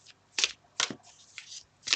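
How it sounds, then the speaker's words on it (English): Soft riffling bursts of tarot cards being shuffled by hand, three or four quick papery flicks, close and fairly quiet. "I'm gonna keep shuffling."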